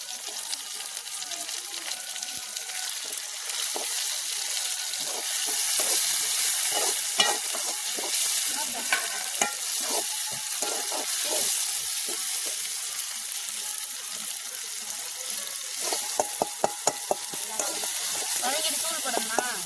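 Prawn gravy sizzling and frying in a pan while being stirred, a steady crackling hiss with repeated scraping and clinking strokes of the spoon, no voices.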